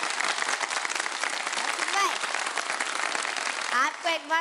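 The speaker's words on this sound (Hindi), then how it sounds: "अगर तालियां बजा सकें आप लोग हमारे लिए" A studio audience at a Ramadan quiz competition show bursts into sustained applause, dense steady clapping from a crowd with a few voices and whoops rising over it near the end.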